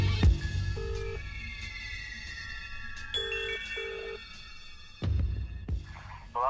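A telephone rings in repeated electronic bursts, separated by pauses, over a faint background hum, with a brief knock or thump near the end.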